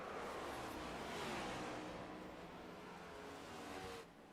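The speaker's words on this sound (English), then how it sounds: "hopefully you can hear the cars a little bit more" Race cars in iRacing at Phoenix, a steady broadband engine roar of several cars at once that holds level throughout and drops slightly at the very end, with no talking.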